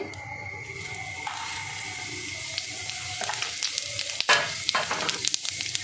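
Whole cumin seeds and a bay leaf hit hot oil for a Bengali tempering, a close steady sizzle that flares sharply with spattering crackles near the end.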